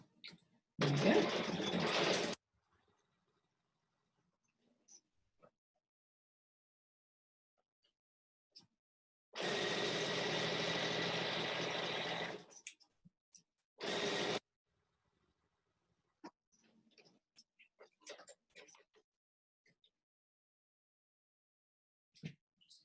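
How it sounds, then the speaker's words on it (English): A sewing machine stitches a 1/4 inch seam on a small fabric bag in bursts: a short run of stitching, a longer steady run, then a brief final spurt, separated by quiet pauses with faint handling noises. "I'm going to stitch down here using a 1/4 inch seam allowance"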